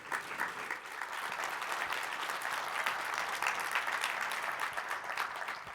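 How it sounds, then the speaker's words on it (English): Conference audience at a keynote presentation gives itself a sustained round of applause, a dense, steady roar of many hands clapping throughout without any talking. "Please give yourselves a round of applause."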